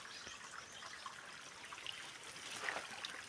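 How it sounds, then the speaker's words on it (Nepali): Stream water trickles down rocks on a steep hillside, a soft, continuous babbling that stays faint and even throughout. "यहाँनिर पानी पनि अलिअलि पानी झरिरहेको छ"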